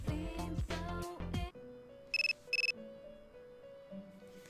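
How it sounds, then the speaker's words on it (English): A cell phone ringtone in the video game Persona 3 Portable: two short bright electronic trilling bursts, close and clear, over soft background game music. "Your cell phone is ringing."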